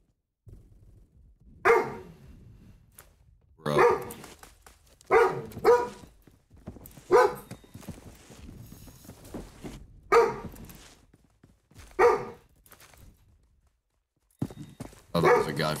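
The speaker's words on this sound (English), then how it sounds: "Stop barking, dog." A dog barks in short, loud bursts at uneven intervals through a casual live stream at home, with quieter gaps between the outbursts.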